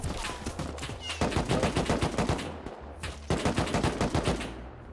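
Rapid bursts of gunfire ring out in the survival game Rust, a long volley of loud, closely spaced shots, a brief gap, then another sustained rattling burst, with no talking over it.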